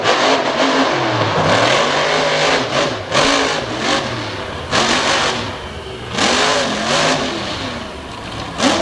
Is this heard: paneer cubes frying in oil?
no